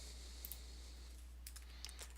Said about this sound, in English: let's type it here so we are not going to forget it